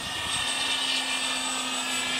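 A radio-controlled model aircraft's blower runs at a model flying field, giving a loud, continuous, steady high whine with a constant low hum underneath, heard close and unbroken, with no voices.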